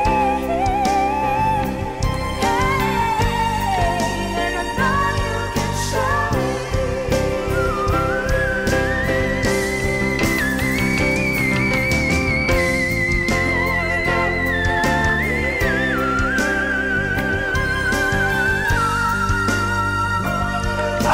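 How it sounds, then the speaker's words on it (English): A long, high, sustained sung whistle note by a female singer glides and wavers over dense instrumental backing, held steadily for many seconds at strong volume. "That was a long whistle note."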